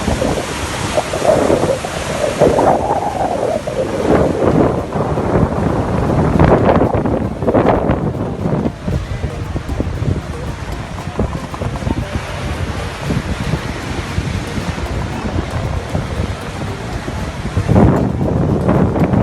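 Strong ocean waves break on the shore at Jamestown, Accra, a loud continuous roar of surf with surging crashes and heavy wind buffeting the microphone throughout.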